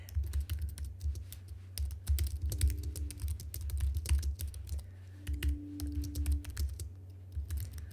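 Rapid keystrokes on a computer keyboard while working in TypeTool, a steady run of close, crisp clicks over low background hum.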